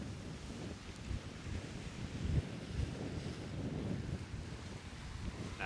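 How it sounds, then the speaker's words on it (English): Ocean surf washes and crashes on a resort beach at Cayo Santa Maria, a steady broad roar of waves with wind buffeting the microphone throughout. "look at some good waves crashing up over here"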